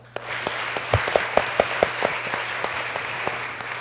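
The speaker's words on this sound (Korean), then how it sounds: "이럴 때 좀 크게 박수 쳐주세요." A church congregation at an Easter service gives a short round of applause, starting with a few distinct claps that swell into moderate, scattered clapping in a reverberant hall before thinning out.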